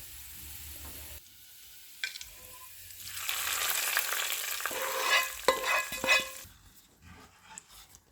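Hot oil crackles and sizzles loudly as garlic and cumin hit the pan, with a few clinks of stirring and the hiss fading toward the end.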